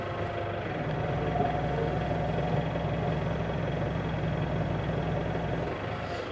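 A tractor engine runs steadily in the background on a farm during hay mowing, a continuous low rumbling drone at even loudness throughout, with no voices.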